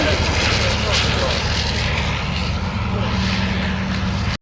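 A replica Fokker Dr.I or D.VII World War I fighter at an air show at Sywell, its propeller engine droning loudly and steadily throughout, with a commentator talking over it.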